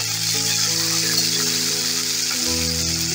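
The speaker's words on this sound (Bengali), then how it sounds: "ক্যাপসিকামটা দিয়ে দিলাম, বিনসটা দিয়ে দিলাম। এটা একটু নাড়াচাড়া করে তারপর মটরশুঁটিটা দেব।" Capsicum and beans fry in a pan with a steady loud sizzle and crackle, close up, while the vegetables are stirred around, with no voices.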